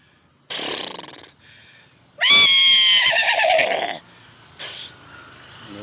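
An old, thin horse neighs up close: a short snort, then a loud, quavering whinny lasting over a second, followed by a brief breathy snort, all with no talking.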